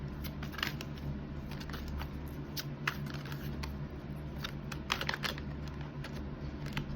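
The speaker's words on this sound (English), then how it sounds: "I'm going to shuffle them back" Quick, soft clicking and riffling of tarot cards being shuffled, in scattered bursts over a steady low hum.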